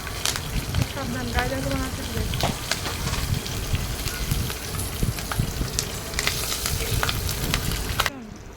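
Green chillies sizzle and crackle in hot oil in a kadai as part of a Bengali eggplant and hilsa curry, a steady close frying hiss lasting throughout with a brief voice early on.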